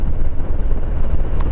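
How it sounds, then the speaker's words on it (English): A heavy gust of wind buffets the microphone of a rider on a 2023 Harley-Davidson Heritage Classic 114 crossing open fields, a loud, continuous low roar mixed with engine and road noise. "Oh, the gust of wind."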